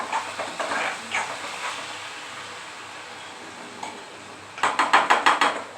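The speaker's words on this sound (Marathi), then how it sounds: "इकडे कुकरच्या पण शिट्ट्या चालू आहेत" Pressure cooker whistle on a home kitchen stove during holiday meal cooking, a loud burst of rapid pulsing hiss near the end after quieter sizzling and clatter.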